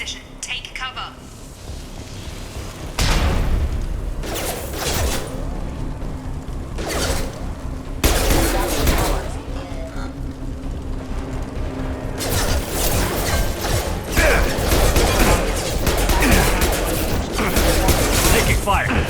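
Bursts of gunfire from security mechs in the video game Mass Effect come in repeated, dense volleys with heavy low-end booms across the stretch, while voices talk over the battle.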